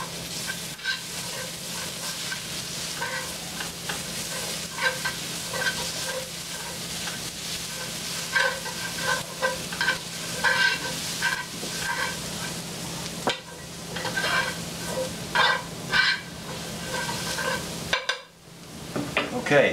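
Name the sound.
garlic sizzling in a pan for carbonara sauce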